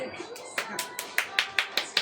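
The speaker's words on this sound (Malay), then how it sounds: "Tepuk tangan." A group claps hands for a birthday at a home gathering, with quick, evenly spaced claps building into a steady beat while voices chatter underneath.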